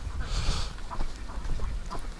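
Ducks quacking in a pen on a snowy duck farm, several short nasal quacks repeating over steady low outdoor rumble, moderately close.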